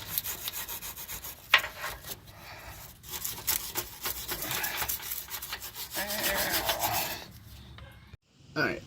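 Brush scrubbing of fuel line brackets from a 1995-1999 Chevrolet/GMC Suburban, a steady raspy rubbing with short strokes and brief pauses, close and fairly quiet, no talking.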